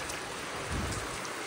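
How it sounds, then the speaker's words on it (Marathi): Steady continuous rain falling on a farm where khillar cattle are kept, a broad even hiss close by with no voices. "धरून कंटिन्युअसली पाऊस चालू आहे असा राव."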